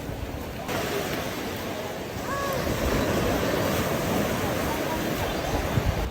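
Steady sea waves wash and roar nearby with wind rushing across the microphone, a continuous broad surf noise.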